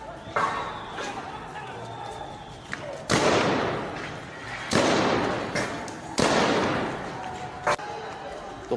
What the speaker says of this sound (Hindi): वहां पर कुछ फायरिंग की भी आवाज सुनाई दे रही है